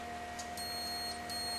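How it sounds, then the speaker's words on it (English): A multimeter set to continuity gives a steady, high-pitched electronic beep that starts partway through and holds continuously, loud and close, during a red dot laser repair. "I have a multimeter and I'm just going to stick it on"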